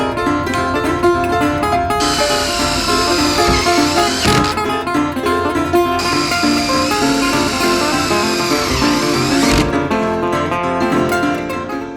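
A power drill drives self-tapping screws into MORryde StepAbove RV steps; a loud, sustained motor whine runs throughout, its pitch sagging and dipping twice as the screws bite and the drill briefly slows.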